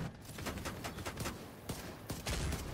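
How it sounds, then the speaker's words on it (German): Rapid explosive bursts of rocket fire strike a wagon during a Destiny raid, a dense fusillade of sharp blasts in quick succession, loud and close. "Die beiden Raketenspieler schießen die Raketen wieder auf den Wagen mit der Kanonenkugel."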